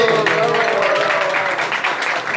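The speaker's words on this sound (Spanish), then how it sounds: "Un aplauso para los clientes." Crowd applause at a lively live show, a short dense burst of many hands clapping with voices and cheering mixed in.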